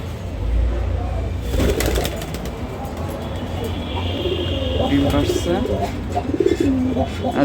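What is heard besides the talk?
pigeons cooing, including Lakka pigeons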